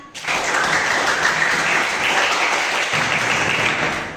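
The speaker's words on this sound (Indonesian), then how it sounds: "Dulu aplaus untuk kita semua." A classroom of students breaks into sustained applause, dense and fairly loud, lasting several seconds with no talking.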